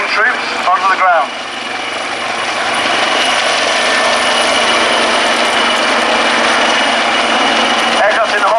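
Navy helicopter from 85 Naval Air Squadron hovering as troops deploy at Yeovilton Air Day, a loud steady rotor and turbine roar filling the whole stretch, with a voice speaking briefly over it near the start and end.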